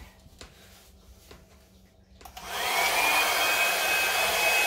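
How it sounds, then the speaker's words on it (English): A hair dryer switches on after some quiet handling noises, then blows loud and steady with a constant whirring hiss to the end, no talking. "I am quickly going to get my hair dryer."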